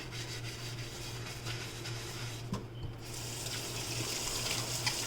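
Dishes rubbed clean with soap under a running kitchen tap, a faint steady trickle of water with soft scrubbing and small clinks close by.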